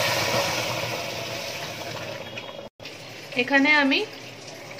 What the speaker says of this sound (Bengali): এবার এর মধ্যে জল দিয়ে দিচ্ছি।